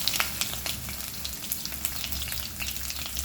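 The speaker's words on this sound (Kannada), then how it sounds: "ಜಜ್ಜಿದ ಬೆಳ್ಳುಳ್ಳಿ ಹಾಕ್ಕೊಳ್ತೇನೆ" Crushed garlic fries in hot oil with popped mustard seeds, a steady close sizzle broken by soft crackles and light stirring taps.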